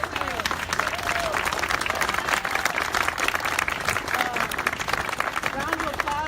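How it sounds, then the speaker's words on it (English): Audience applause fills a press conference on a county response to anti-immigrant mailers, steady dense clapping throughout at moderate level, with some voices mixed in. "round of applause for Hugo"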